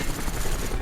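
A helicopter arrives in the Call of Duty Black Ops campaign on Veteran difficulty, its rotor a dense, steady roar that fills the brief moment loudly and evenly with no talk over it.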